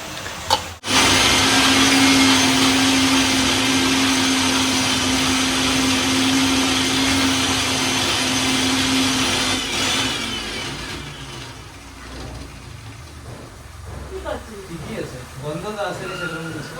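An electric kitchen grinder whirs loud and steady for about nine seconds while grinding mustard seeds, cumin, garlic and green and dried chillies into a paste, then winds down as someone speaks.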